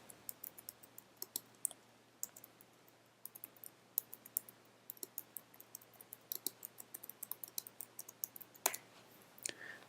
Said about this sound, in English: Next, type in the name of the event.